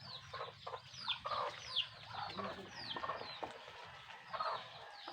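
Native chickens cluck in bursts across an outdoor farmyard scene, moderately close, with bird calls and a low background rumble.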